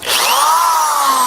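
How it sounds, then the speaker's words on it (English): A corded hammer drill powered from a DIY solar panel system spins up and runs steadily, a loud continuous motor whine with a slowly falling pitch and no breaks, heard alone and close with no talk. "runs the hammer drill just fine"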